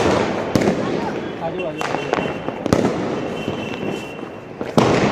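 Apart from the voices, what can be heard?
Diwali firecrackers being set off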